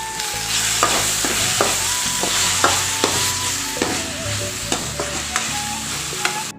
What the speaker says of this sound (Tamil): இப்போ நம்ம தக்காளி சேர்த்து வதக்கலாங்க.